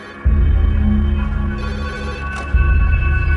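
A telephone rings in a chemical plant control room in Bhopal during a gas leak, a loud, steady electronic tone over a low hum that cuts off briefly and starts again, with no one speaking.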